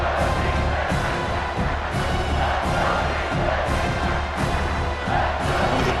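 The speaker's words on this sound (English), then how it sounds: "Third down and the crowd really getting into it" A packed stadium crowd roars and cheers in EA Sports College Football 26 on a late third down, a loud, sustained wall of crowd noise with no clear talk over it.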